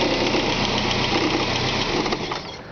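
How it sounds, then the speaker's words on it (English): Running Saab engine with a noisy turbo, a steady close broadband whoosh and rattle with a fast knocking texture throughout, fading slightly at the end. "There's some noise coming out of that turbo."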